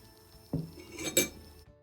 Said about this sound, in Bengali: তো এবার আমি বাটিটিকে বের করে নিচ্ছি